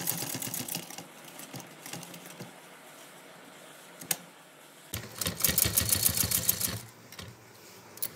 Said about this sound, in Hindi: यहाँ से हमने दबाया अपना कपड़ा और इस तरह से यहाँ पर सिलाई देने हैं